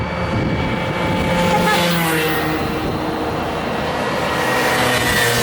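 Two modified Genuine Buddy 50cc scooters accelerating side by side in a drag race, a continuous buzzing, high-revving engine whine that rises in pitch as they approach and pass nearby.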